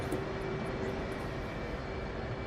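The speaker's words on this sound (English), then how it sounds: "Waiting for engine idle." Warbird piston aircraft engine idling in the DCS flight simulator, a steady, continuous broadband drone with a faint constant tone, even and unbroken throughout.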